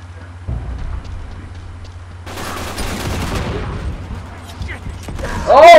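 Bursts of gunfire from an Uncharted 3 multiplayer match, busy layered shots and clatter building toward a louder finish, with faint talk underneath.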